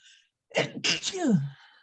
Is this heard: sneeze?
yes